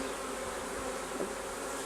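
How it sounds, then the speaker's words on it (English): A honeybee buzzes continuously and close by, trapped inside a beekeeper's veil during a hive checkup, its steady drone filling the whole moment with no talking. "Oh, a bee just got in my veil."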